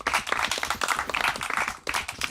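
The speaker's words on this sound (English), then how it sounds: "Can we get a round of applause for Sadhguru, everybody?" An audience applauds steadily, many hands clapping together in a dense, continuous patter with a brief dip before it picks up again.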